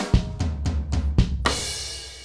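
Drum kit groove played alone: five sharp, evenly spaced hits with deep kick and snare thumps, then a bright crash cymbal washing out and ringing to the end.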